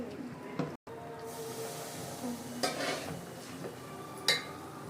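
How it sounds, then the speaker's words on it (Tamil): A Mysore pak mixture is stirred in ghee in a pan, giving quiet, soft scraping and faint sizzling with a few sharper clinks of the spoon against the vessel. "கைவிடாம கிண்டிக்கிட்டே இருக்கணும் நெய் ஊற்றணும்"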